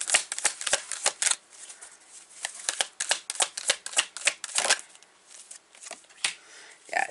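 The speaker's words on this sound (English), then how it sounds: "I'm going to pull from this deck to clarify the Six of Swords." A tarot card deck being shuffled, with quick bursts of riffling and flicking cards repeating in an uneven rhythm, close and fairly quiet, with no talking.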